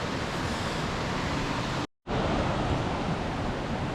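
A mountain stream in a valley on Bukhansan's Jindallae ridge, swollen after a week of rain, roars as a loud, steady broadband rush that drops out briefly near the middle, then resumes just as strongly, with no voices.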